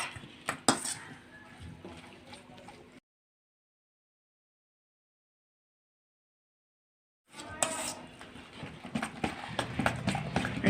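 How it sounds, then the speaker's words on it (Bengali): A spoon clinks and scrapes against a bowl while mixing ingredients for a Bengali cauliflower curry, close and moderately loud in uneven bursts, broken by a silent gap of about four seconds before the mixing resumes. "তাই আমি চামচটা দিয়ে মাখিয়ে নেব।"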